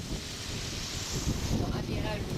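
Wind and waves rush steadily around a sailboat sailing on a broad reach in about three-foot seas near the Bahamas, with wind buffeting the microphone throughout.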